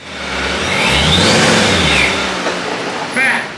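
A Camaro fitted with a supercharger rolls up into a driveway, its engine rising into a close, loud rev that swells for about two seconds and then eases off as it slows.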